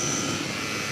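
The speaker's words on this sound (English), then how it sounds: "It's still picking up engine noise, which I'd expect it to." Continuous droning aircraft engine hum, steady and fairly loud, filling the whole moment without any other sound.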